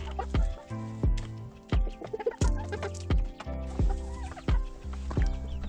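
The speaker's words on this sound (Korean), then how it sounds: "이쁜이가 떠나자 이곳은 다시 닭들의 아지트가 되었다." Chickens cluck and gobble close by in repeated bursts, several birds calling over one another with loud, choppy rhythm throughout.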